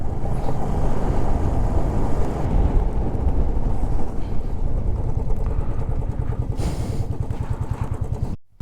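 A motorcycle rides along a mountain road in Ladakh between Pangong and Hanle, its engine throbbing loudly and steadily close to the microphone with wind rush over it, then cutting off sharply at the end.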